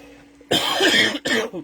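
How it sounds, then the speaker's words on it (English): A single harsh cough up close, followed quickly by a second shorter cough. "hopefully my cough won't be too bad."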